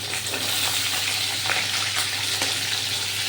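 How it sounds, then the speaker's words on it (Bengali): A raw hilsa fish head is turned over in a frying pan of hot oil. The oil keeps up a constant loud sizzle, and brief soft scrapes mark the turning, with no voices. "মাছের মাথা একটু এদিক থেকে ওদিক আমাকে নেড়ে দিতে হবে"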